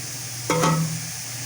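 Boiled bottle gourd is tipped back into a cooking pot during halwa making, giving a single brief metallic clink and scrape over a steady background hiss.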